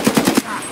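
Rapid automatic gunfire in Escape from Tarkov, a tight burst of four loud shots in under half a second, close and punchy, then a short fading tail.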